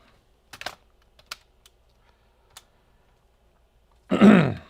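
A few scattered keystrokes tap on a computer keyboard during a live laptop-repair stream, isolated clicks over near silence, ending with a loud, close burp-like throat sound.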